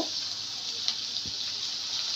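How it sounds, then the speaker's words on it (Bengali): A continuous hiss of water pouring steadily into a cooking pan of rohu fish curry with bottle gourd, with a faint clink partway through and no talking. "আমি এখানে সামান্য পরিমাণ পানি অ্যাড করব"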